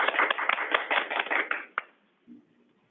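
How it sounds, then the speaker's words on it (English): Audience applause for a co-host at a chamber of commerce meeting, a brief burst of many hands clapping that fades out after about two seconds, followed by a faint low murmur. "Let's give her a round of applause."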